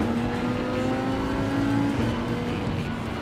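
A Dodge Viper engine hums and rises steadily in pitch as it accelerates, a continuous whirring drone with no voices.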